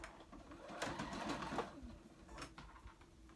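A home sewing machine runs in quick bursts, its needle chattering rapidly and faintly close by in a quiet room, stopping and starting unevenly.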